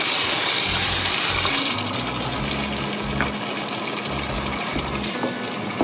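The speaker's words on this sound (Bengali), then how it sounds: "এখন এটার সঙ্গে পানি দিয়ে দেবো" Water is poured into a pan of bottle gourd curry with spiced masala, a steady liquid pouring and bubbling wash that runs close and continuous for several seconds, with no talking.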